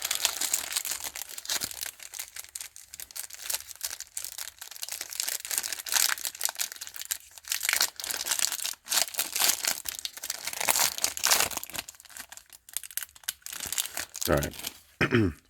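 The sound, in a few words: opening plastic packaging of 1989 Topps baseball card packs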